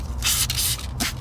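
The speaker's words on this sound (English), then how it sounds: "spray into the brush" Several quick hissing bursts of a spray bottle spraying leather cleaner into a brush, close by, in rapid succession with brief gaps between pumps.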